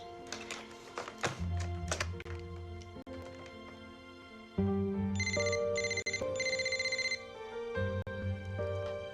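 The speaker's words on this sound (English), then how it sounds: "I'll call his cell phone." A cell phone ringtone plays a melodic electronic tune in repeated phrases, fairly faint, with brief thumps and knocks near the start.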